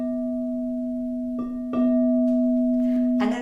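A crystal singing bowl struck with a silicone wand gives a bright, harsh ring, with a steady sustained tone and several sharper taps layered over it, fairly close and clear.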